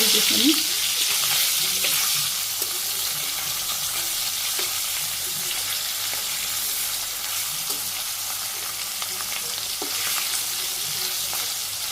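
Hilsa fish frying in hot oil in a pan, a steady dense crackling sizzle that holds loud and close throughout with faint scattered clatter.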